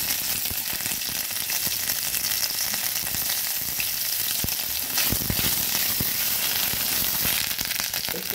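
Ginger paste sizzles hard in hot oil with panch phoron, bay leaf and dried red chilli. The crackling frying is loud and steady, with sharp pops scattered through it, and no one speaks.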